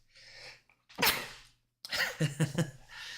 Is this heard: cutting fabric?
no